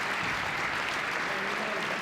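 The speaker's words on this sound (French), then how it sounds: "Bravo messieurs, on applaudit." Steady applause from the audience at the men's final of the P2000 UrbanPadel padel tournament in Nantes, a continuous dense clatter of clapping hands at moderate volume, without letup for the full two seconds.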